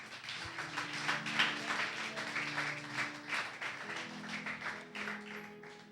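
Church congregation applauding during a sermon, a steady wash of many hands clapping at moderate level throughout, with no voices over it.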